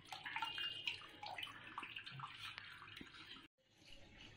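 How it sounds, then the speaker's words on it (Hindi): Cold tap water runs steadily over noodles in a strainer for Hakka noodles, a continuous close splashing with small drips, briefly cutting out near the end before resuming. "अभी हम ठंडे पानी से इनको धो लेंगे। ये नॉर्मल टेम्परेचर ये पानी है, अच्छे से वाश कर लेंगे इनको"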